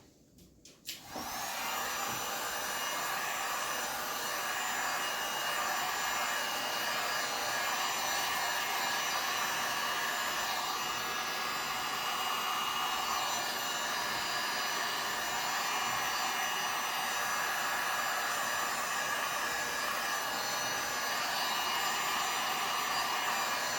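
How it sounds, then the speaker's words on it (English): A heat gun blows steadily on a resin beach piece with baby sea turtles, a loud continuous broadband whoosh starting a second in and holding unbroken to the end, with no voices. "now I'm going to hit that with the gun again"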